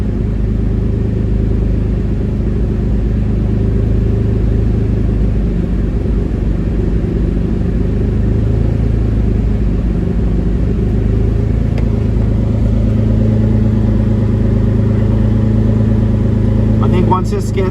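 A 1999 Lamborghini Diablo Roadster engine idles steadily, a loud, continuous low rumble with a slight bounce in its note, while someone talks over it throughout.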